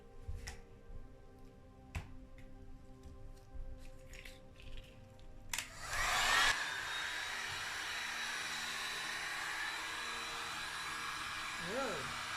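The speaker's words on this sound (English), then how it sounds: "I'm going to blow it around a bit with my heat gun" A heat gun blows hot air over resin for a resin Inukshuk sculpture, switching on partway through as a loud, steady broadband roar that continues to the end after some quiet handling clicks.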